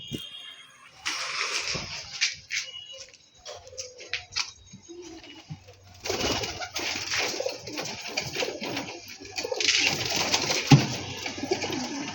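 Madras pigeons cooing repeatedly nearby in soft throaty bursts, with rustling and flutter between calls.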